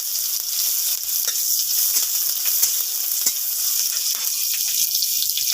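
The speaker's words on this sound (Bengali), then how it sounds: "তেল গরম হয়েছে, তেলে দিয়ে দিব শুকনো লঙ্কা, কাঁচা লঙ্কা, দিয়ে দিব পেঁয়াজ কুচি" Dried red chillies, green chillies and chopped onion sizzle steadily in hot oil, a continuous close crackling hiss with small pops throughout and no talking.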